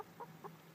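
Bantam hens in a coop give a few soft, short clucks, faint and close together, against quiet background noise.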